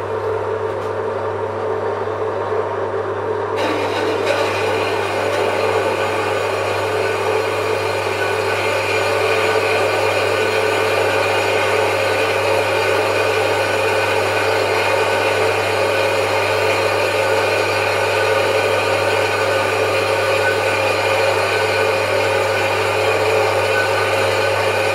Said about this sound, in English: Get to the bandsaw and we'll cut that to length.